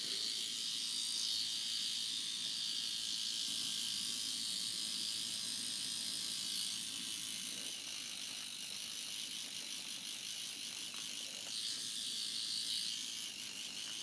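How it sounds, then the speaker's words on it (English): Seam ripper picking and cutting through sewing stitches, a steady fine scratchy ticking close by with no talking. "I bet you haven't seen me seam rip this much in a long time"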